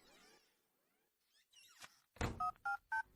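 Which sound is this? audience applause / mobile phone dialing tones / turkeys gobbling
mobile phone dialing tones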